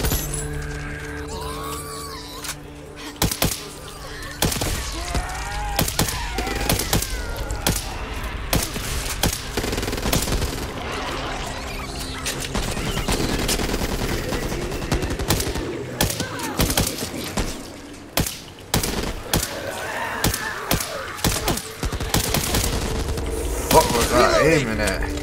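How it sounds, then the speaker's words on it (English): Sniper rifle fire and other gunshots in the zombie shooter Back 4 Blood, a series of sharp impulsive cracks scattered across the stretch amid dense game noise, with a player talking over it. "Sniper rifle! Looks like you're dead!"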